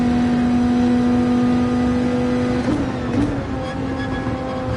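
Engine revving hard in a car in Gran Turismo 7, a steady high droning tone held loud and near, then dipping and wavering briefly as the revs hit the limit before settling again.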